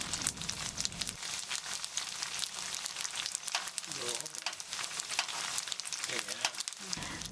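Noodles for Mamak mee goreng are stir-fried in a stainless steel wok, giving a loud, crackling sizzle with scraping and tossing bursts that continue throughout while a person talks over it.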